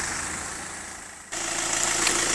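A Rover 75 Tourer engine idles with a steady hum and whirr, growing noticeably louder halfway through, close by and with no voices.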